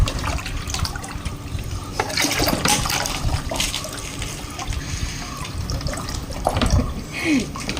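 Water runs steadily into a bottle being filled, a continuous close splashing rush with small gurgles and knocks throughout.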